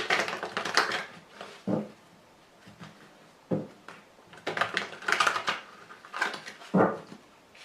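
Tarot cards being cut and reshuffled by hand make bursts of crisp riffling and slapping, several short flurries separated by brief quiet gaps, close and fairly clear.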